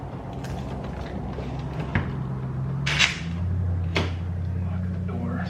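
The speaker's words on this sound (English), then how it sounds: "I'll lift the panel back up. And I'm going to put the bottom in first." A Ford car door trim panel being fitted back onto the door, with plastic clicks and snaps, creaks and a sharp knock amid a steady low hum, while someone talks.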